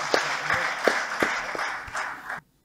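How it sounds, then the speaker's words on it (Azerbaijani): Audience applause at a poetry and literary jubilee gathering in Azerbaijan, steady clapping from a crowd with repeated sharper bursts, moderately loud, then cutting off abruptly into silence. "Alqışlayaq Sabir müəllim"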